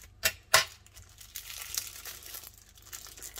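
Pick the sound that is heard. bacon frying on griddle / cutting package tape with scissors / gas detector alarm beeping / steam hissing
cutting package tape with scissors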